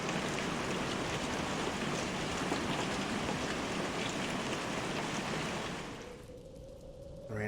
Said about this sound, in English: The rain is stopping.